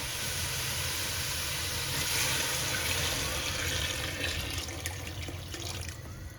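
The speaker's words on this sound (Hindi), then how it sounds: "अब इसके अंदर मैं पानी डाल दूँगी।" Water pouring steadily into a pot of aloo gosht being cooked, a continuous splashing rush that thins out toward the end, with no talking.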